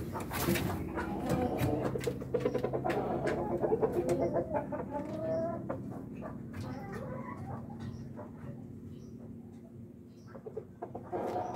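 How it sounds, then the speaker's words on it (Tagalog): Rhode Island breeder rooster clucking and calling among other chickens, close and busy, with steady farmyard background noise throughout. "Rooster natin."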